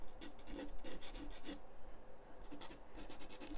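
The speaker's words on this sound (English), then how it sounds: "this is one of my homemade pastels. You can hear the grit, the sand in that." A gritty homemade pastel containing sand rasps across a pastel mat in short, close strokes, a soft rough scratching repeated in an uneven rhythm.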